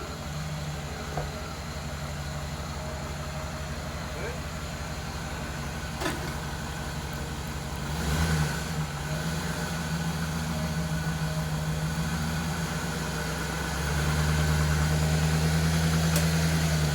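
A 2007-2014 GMC Yukon engine idles steadily with a constant low hum, swelling briefly twice as it rolls up onto steel ramps, with a few faint clicks and no voices.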